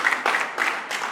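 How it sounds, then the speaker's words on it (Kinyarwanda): Congregation applauding in a church during a wedding ceremony, a dense broadband wash of clapping in three or four swelling bursts, close and steady, with no one speaking. "Imana amashyi."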